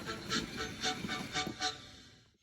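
Thomas the tank engine slows to a halt at a red signal near a station, a rhythmic clickety-clack of wheels over rail joints with hissing steam, the beats spacing out and fading as the train comes to rest.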